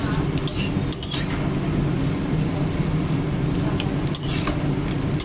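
Potatoes stirred and fried in a pan with very little oil, a pinch of cumin and dry chili, giving a steady low sizzle with scattered clinks of a utensil against the pan.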